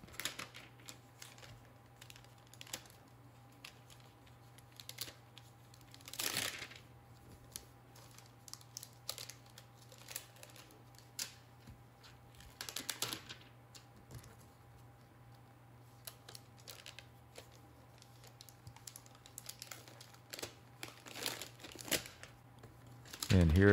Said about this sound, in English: Now let's go ahead and unwrap our laptop and get the protective plastic coating off of it.